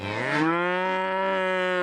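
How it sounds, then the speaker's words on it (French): Cattle low in a long, loud, sustained moo in a town centre during an autumn descent of herds from alpine pastures into Grenoble, the bellow steady and close with no voices over it. "Les vaches là."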